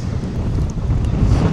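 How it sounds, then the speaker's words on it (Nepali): Strong wind buffeting the microphone at a coastal lookout in Kiama, a loud, gusty low rumble that swells and dips continuously, with no voices. "हावा लाग्छ एकदमै यहाँ अहिले"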